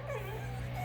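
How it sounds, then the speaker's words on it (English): Two dogs, a household dog and a neighbour's dog, whimper and yip in a brief, steady stretch against a continuous low hum in an outdoor garden. "I'm amazed we went this long without them barking like crazy."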